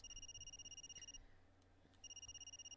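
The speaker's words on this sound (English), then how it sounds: "I could hear the ringing of my alarm clock." An alarm clock ringtone on a phone in a visual novel game, rapid electronic trilling beeps in two bursts about a second long separated by a short pause, fairly quiet.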